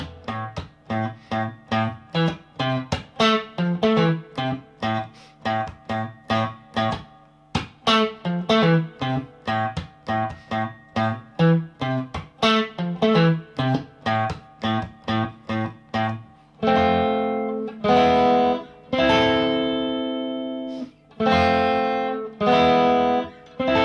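Distorted electric guitar riffing on the Fortnite Floss emote tune, a fast, steady rhythmic line of punchy chopped notes turning into longer sustained chords near the end, loud and unaccompanied by voices.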